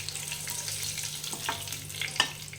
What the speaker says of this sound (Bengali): তো বন্ধুরা এইভাবে ভেজে নেবেন মাছটাকে প্রথমে